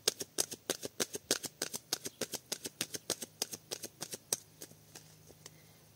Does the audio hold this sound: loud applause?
no